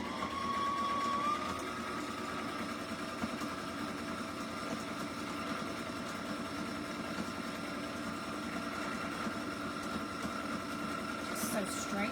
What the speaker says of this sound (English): sew straight down to the end